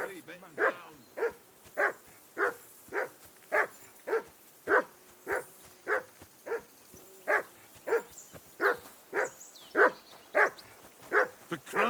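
A dog in the video game Kingdom Come Deliverance 2 barks over and over in a steady, evenly spaced rhythm, around twenty sharp woofs at moderate distance.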